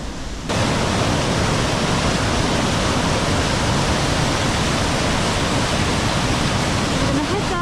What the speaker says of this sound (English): This bridge will take you over the top of Aira Force waterfall, and you get a really good viewpoint from here.